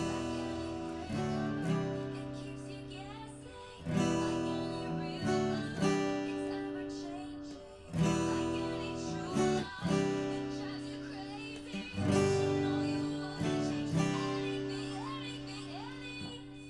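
Guitar reduction of the bridge of a song played along with backing music: strummed chords in steady two-bar phrases with repeated strong syncopated accents, full and close, no talking.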